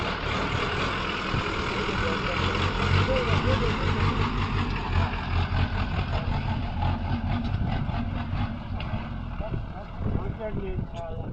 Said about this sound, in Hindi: ये हमारी जीप है।